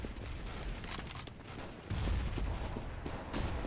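Rapid FAMAS gunfire and grenade blasts fill a Counter-Strike match on the Cache map, quiet and distant-sounding, with dense overlapping shots and a heavier rumble in the second half.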